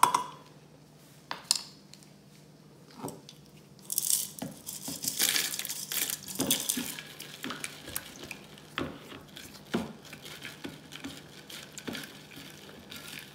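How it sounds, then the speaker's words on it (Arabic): Caustic soda is stirred into water in a container while making turmeric soap, giving irregular scraping and clinking strokes that come in quiet bursts with short pauses between them. "منبلش مننزل الصودا الكاوية فوق المي شوي شوي ومنحرك"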